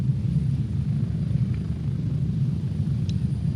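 A helicopter in a video game, running in 4K, gives a continuous low rotor rumble and engine drone that holds steady throughout, with a couple of faint brief clicks over it.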